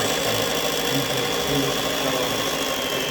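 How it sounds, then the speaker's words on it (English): A hand mixer whirs steadily and loudly while tiramisu batter is being whipped, a continuous close motor drone with no pauses and no voices. "You stop the hand mixer"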